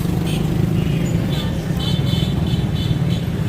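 Busy road traffic in Jhelum, Pakistan, fills the scene: a loud, continuous engine rumble from cars and motorbikes with repeated short horn toots cutting through.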